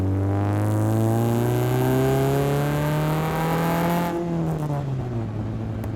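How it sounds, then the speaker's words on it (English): Chevrolet exhaust recorded close up while driving: a loud, steady low burble with a strong harmonic drone that rises gradually as the engine pulls, then drops and changes tone as the throttle eases off. "We got some beautiful audio being recorded from the exhaust straight into the microphone."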